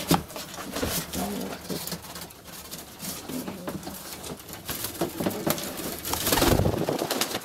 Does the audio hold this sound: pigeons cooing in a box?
yes